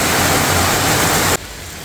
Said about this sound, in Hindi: थोड़ा थोड़ा बारिश अभी हो रहा है और दरख्तों से भी पानी गिर रहा है